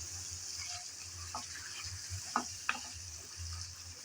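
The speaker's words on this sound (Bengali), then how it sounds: "ভালোভাবে নেড়েচেড়ে মিশিয়ে নিয়েছি" Chicken kosha frying in a pan is stirred, with a soft, steady sizzle under the scrape of a spatula and a couple of sharp knocks against the pan.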